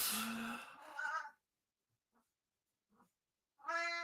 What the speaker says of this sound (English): The cat is very fired up at the moment.